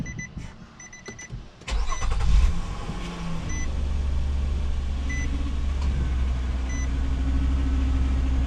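Nissan Murano engine starting after the steering wheel is worked to bleed air from the power steering, with a brief cranking burst and then a steady low idle; faint high beeps sound early on.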